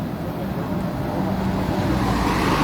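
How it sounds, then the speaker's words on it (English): Steady road traffic hums and whooshes nearby, a continuous wash of passing vehicles with no speech. "Sorry for the traffic."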